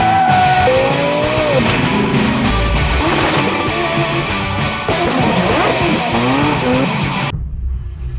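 A 650-horsepower minivan driven hard rally style, engine roaring and revving close by while tires squeal and skid across loose ground, loud and continuous until it cuts off abruptly.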